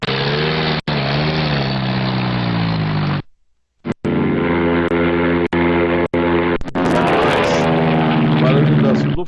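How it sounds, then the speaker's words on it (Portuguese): Luftwaffe warplanes fly with a loud, continuous droning engine roar that breaks off briefly twice and returns, ending with a harsher, rising blast. "O barulho das Luftwaffes, né? Os aviões"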